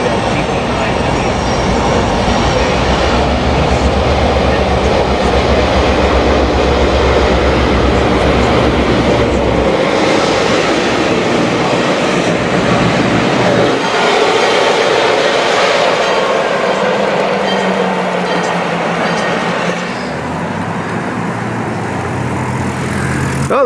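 A Polar Express holiday excursion train runs through Santa Cruz, its cars rumbling and rattling steadily nearby with a continuous loud rolling roar and some wheel noise, no talking over it.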